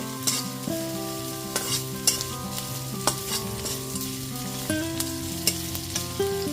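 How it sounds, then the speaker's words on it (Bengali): Chopped onion, ginger and garlic fry in a pan for a home-style chicken stew, a steady sizzle with occasional stirring scrapes, while background music plays underneath and no one speaks. "পেঁয়াজ আদা রসুনটা খুব ভালো মতো ভেজে নেওয়ার পর"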